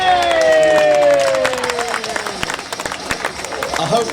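A crowd at a Stihl Timbersports show at the Royal Three Counties Show in Malvern cheers and claps under loud commentary voices, while a mechanical whine winds down in pitch early on.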